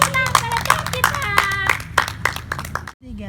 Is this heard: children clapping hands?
yes